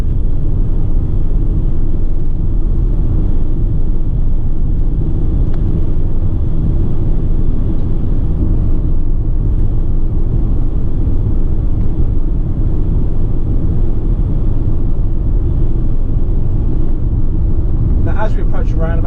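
A 2015 Ford Transit dropside truck with tail lift accelerates on the road, its engine a steady low rumble climbing through the six-speed gearbox, loud and continuous inside the cab with road noise throughout.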